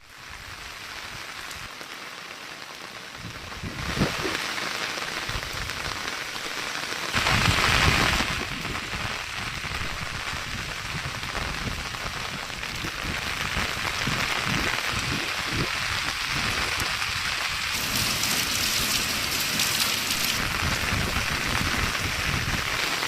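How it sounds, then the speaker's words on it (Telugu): Heavy rain pours steadily throughout, a dense, loud, close hiss of drops striking surfaces that swells slightly in a few places, with no voices over it. "భారీ వర్షాలు కురుస్తున్నాయి"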